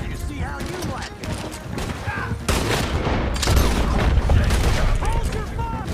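Gunfire in a Red Dead Redemption 2 shootout: scattered shots and crashing impacts, growing into a heavier, denser barrage midway, loud and close throughout.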